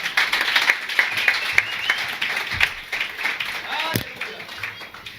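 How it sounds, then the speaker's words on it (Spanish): A church congregation claps loudly during a Spanish-language worship service: a dense, steady wash of applause fills the whole stretch, with voices mixed in beneath it. "¿Pueden darle un aplauso fuerte al Señor?"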